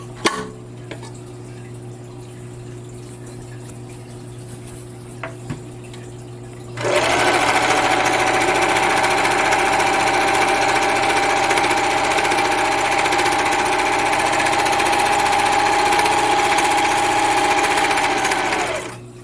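Toyota 6600 serger stitching fabric: after several seconds of quiet room noise with light clicks, a loud, steady, rapid mechanical whir starts and runs continuously for about twelve seconds, close and alone.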